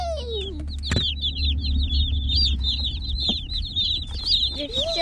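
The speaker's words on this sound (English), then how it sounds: "we just got the baby chicks, and they're cute" Baby chicks chirp in a continuous stream of high, quick peeps, many overlapping close by, with a steady low hum of a brooder or room underneath.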